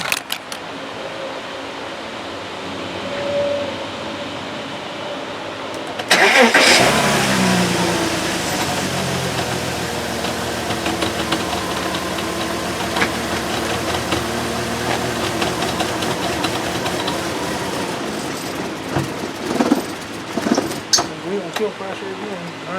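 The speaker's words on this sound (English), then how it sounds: "Now I'm going to go ahead and start her back up and see if we have fuel pressure." A 2004 Porsche Cayenne with a failing fuel pump cranks and starts after a few quiet seconds, then runs with a steady, slightly uneven idle drone, close and fairly loud, with some small mechanical clatter near the end.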